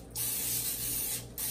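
Two bursts of cooking spray hiss onto a baking sheet, a long steady one followed by a short second spritz, close and fairly loud.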